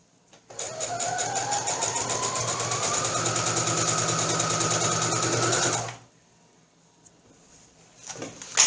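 A sewing machine stitches fabric around a buttonhole, running steadily for about five seconds with a rising whine, then stopping, followed by faint handling sounds.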